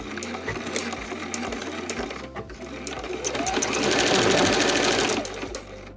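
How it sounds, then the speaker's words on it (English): Sewing machine stitching fabric panels for a small lined drawstring bag, with a steady mechanical whir that pauses briefly for back stitching and then runs on louder and faster, close by with no talking. "I am going to back stitch at the beginning and the end."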